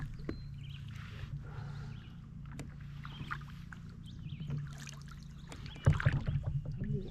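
A kayak is paddled on a river in the Upper Peninsula, with soft, intermittent paddle dips and water lapping against a low steady hum, and one louder splashy knock near the end.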